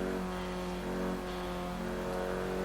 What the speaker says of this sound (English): Yeah, you can definitely hear the turbo.